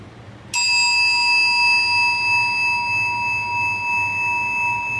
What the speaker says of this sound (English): I'm going to ring the bell and we will bow.